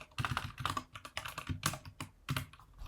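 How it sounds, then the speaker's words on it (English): Fast bursts of typing on a computer keyboard while HTML is being written, with clustered key clicks in uneven runs and short pauses, close and clear, and no voices. "I'm gonna just quickly type up the general structure that we need."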